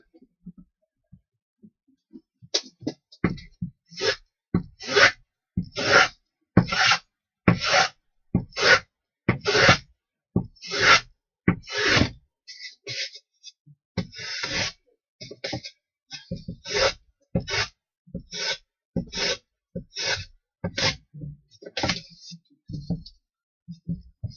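Wood being rasped by hand while shaping a part for a DIY windmill, a slow regular series of short scraping strokes, close and clear, with a few softer uneven strokes toward the end and no talking.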